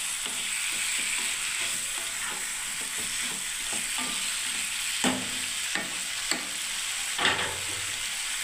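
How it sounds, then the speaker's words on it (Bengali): Ridge gourd stir-fried in a pan for a vegetarian dish, a continuous close sizzle with repeated scraping stirs and a few louder spatula knocks in the second half, no voices. "আমি এবারে এটাকে কষতে থাকবো বন্ধুরা, এই ঝিঙেটাকে বন্ধুরা দেখুন"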